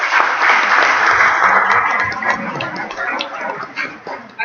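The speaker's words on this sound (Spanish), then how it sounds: "yo le pido un aplauso por favor para el doctor Miguel" Audience applause for a doctor at an evening public event in Tapanatepec. The applause is loud and continuous from the start, tapers slightly, and continues to the end with no voices over it.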